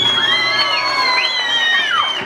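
Family members cheer for a contestant at a youth mariachi graduation with loud, rising and falling high-pitched whoops and shouts, close by, lasting a couple of seconds.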